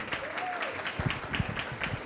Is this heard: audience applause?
yes